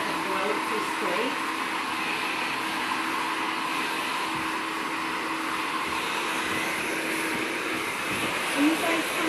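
A hair dryer running on low heat and low airflow over a scalp during a haircut, a steady close whooshing hum that holds for the whole stretch with no breaks.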